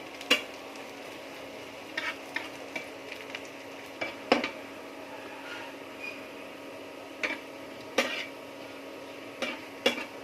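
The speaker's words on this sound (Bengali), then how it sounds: "এখন আমরা দিয়ে দিচ্ছি রসুন। ভালো করে ভেজে হালকা ব্রাউন কালার করে নেব।" Garlic frying in oil in a pan with chillies that were fried first, for a jute leaf mash, giving a low steady sizzle broken by spaced spatula scrapes and clinks against the pan, with no speech.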